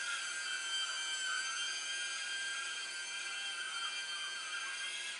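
An iRobot Looj gutter cleaning robot with its auger attached runs on the floor, giving off a steady, faint high motor whine that holds evenly throughout with no talking.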